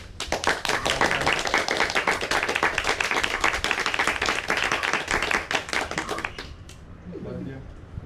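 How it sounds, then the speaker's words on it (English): A yoga class claps hands together at the close of the session, a fast, close run of many sharp individual claps lasting several seconds, then stopping abruptly as a voice follows. "And start to clap."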